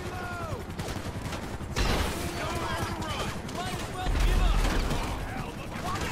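Rapid gunfire bursts ring out in GTA Online, fired from the back seat of a helicopter, dense crackling volleys over constant rotor and engine noise, with a voice talking throughout.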